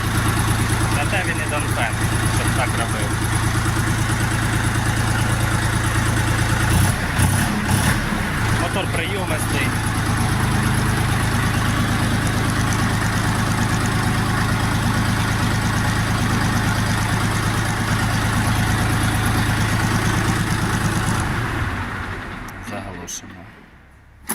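A Dongfeng DF 244 G2 mini tractor engine idles steadily and close by for a long stretch with a low, even hum, with a few clattering sounds along the way before it fades near the end.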